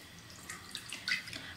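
Two to three cups of water go into a kadhai for cooking pasta, producing faint, light splashes and trickles in a quiet kitchen.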